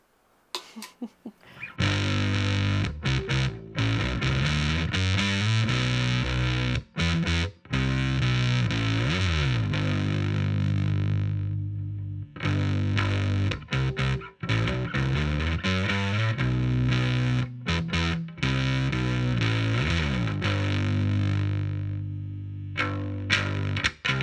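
A heavily modded Squier Bronco bass played through a Death by Audio Octave Clang V2 octave fuzz pedal, loud and distorted with a buzzy, clanging octave tone, riffing in bursts of chopped notes and slides with brief gaps, no talk.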